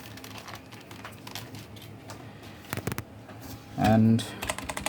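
Close, clicky typing on an EvoFox X-Team Fireblade TKL membrane gaming keyboard: rapid irregular keystrokes throughout, with a single spoken word breaking in near the end before the clatter resumes.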